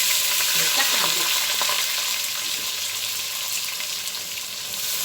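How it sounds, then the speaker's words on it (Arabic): Rice for a fish-and-rice dish sizzles loudly in an oiled pan as it is stirred, a dense, steady crackle close by with faint scraping underneath and no talk. "نحط كميه الرز اللي عندنا ونقلب"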